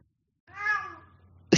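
A cat gives a single drawn-out meow, close and fairly loud, starting after a short silence and fading out, with a brief thump at the very end.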